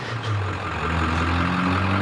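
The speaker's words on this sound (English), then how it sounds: "So much diesel engine in the background." A diesel engine idles nearby in a low, steady rumble that holds for the full stretch, with no talking over it.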